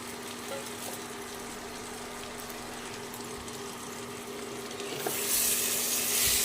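Fried potatoes and pointed gourd being stirred into spices in a pan, giving a steady, even sizzle with a faint hum, and a brighter burst of frying noise in the last second or so.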